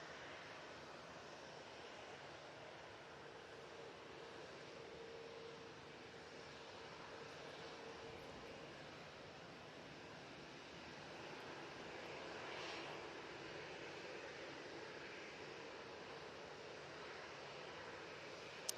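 A Ryanair Boeing 737-800 jet departs Manchester Airport for Dublin, its engines making a steady, distant roar that swells slightly midway and holds with no voices.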